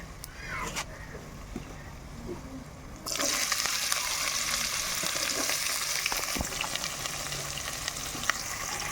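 Tomatoes drop into hot oil and fry. A quieter stretch turns abruptly into a loud, steady sizzle with faint stirring scrapes, and voices can be heard in the background.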